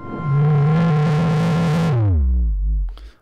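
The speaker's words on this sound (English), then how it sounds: "The Brute factor is kind of a distortion thing that's unique to the MiniBrute" Arturia MiniBrute 2 synthesizer with its Brute Factor distortion, a loud, gritty sustained tone that holds steady, then drops in pitch into a deep, rumbling growl before cutting off.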